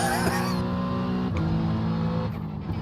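GTP prototype race cars scream past in an iRacing endurance race at Watkins Glen, with a brief, loud engine whine that sweeps by and fades, then a further rush of engine noise.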